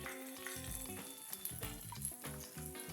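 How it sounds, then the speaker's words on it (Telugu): Chicken leg pieces deep fry on a tawa pan, giving a continuous close bubbling sizzle with frequent popping crackles throughout, no talking. "చికెన్ లెగ్ పీస్తో డీప్ ఫ్రై చేస్తున్నానండి"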